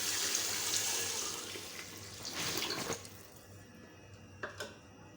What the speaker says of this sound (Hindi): तो बस इसको पानी डाल देते हैं और लिड दे देते हैं।